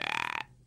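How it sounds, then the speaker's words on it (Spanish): A short, loud, croaking burp from an animated Futurama film, a rough pulsing rasp lasting under half a second before cutting off abruptly, alone with no talk. "Digo el abecedario eructando."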